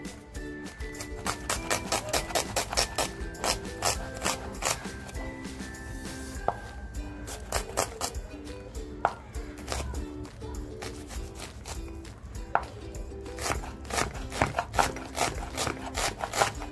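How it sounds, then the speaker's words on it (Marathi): Small onions being finely chopped with a knife on a board for a homemade oyster masala: a fast, steady run of crisp taps near the mic, with faint tonal background sound and no talk. "कांदा एकदम बारीक कापून घेते बघा"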